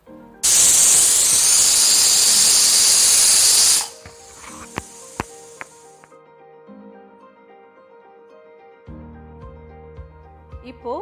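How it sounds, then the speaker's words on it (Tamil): A pressure cooker of tomato pulav lets out a loud, forceful hiss of escaping steam for about three seconds, then cuts off abruptly, leaving quieter tonal background sounds. "குக்கர் விசில் போட்டு ஒரு விசில் வந்து செகண்ட் விசில் வர்றதுக்குள்ள ஆஃப் பண்ணிடலாம்."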